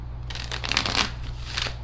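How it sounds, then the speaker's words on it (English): Tarot cards are shuffled by hand in a steady run of soft, papery riffling and slapping, close up over a low steady hum. "Shuffle one more time."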